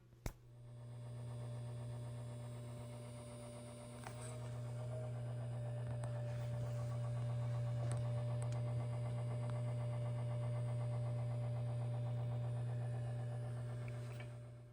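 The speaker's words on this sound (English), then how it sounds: "it sounds like a motor that's just spinning freely." A low steady motor hum with a faint whine from a faulty SAM Coupé floppy drive motor spinning freely runs continuously, slightly louder midway, with small clicks and rattles layered on top; quiet and mechanical.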